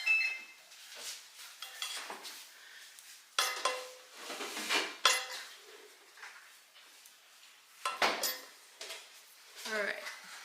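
A utensil scrapes melted chocolate-and-butter brownie batter, with intermittent clinks and scrapes against a bowl in short bursts, close and fairly quiet.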